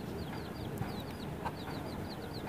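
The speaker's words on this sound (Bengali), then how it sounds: "এখানে দেশি মুরগিও পালা হয়।" Free-ranging local hens on a rooftop give soft, repeated clucks, faint and slightly distant over a steady windy background hum.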